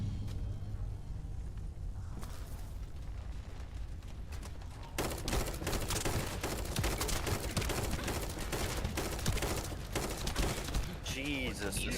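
Sniper rifle gunfire in a video game, sharp reports and rattling bursts cutting through a busy mix of game noise, with a player's voice talking over the action.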